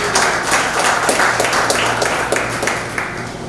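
A university research presentation audience claps to welcome a speaker, fairly loud, close clapping with distinct individual claps over a low hum, easing off toward the end.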